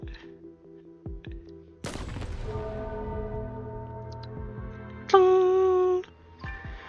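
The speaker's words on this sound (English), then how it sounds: "The entire shrine is shaking, and that explosion just now." An explosion in the Arknights video game goes off as one sudden booming hit, followed by a long rumbling tail with a bright tonal chime layered on top. The hit is preceded by a few faint ticks.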